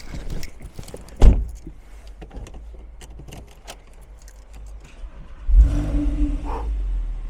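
A Porsche 997 GTS with sport exhaust in sport mode is close by, a short clunk followed several seconds later by a loud engine surge that settles into a steady rumbling drone.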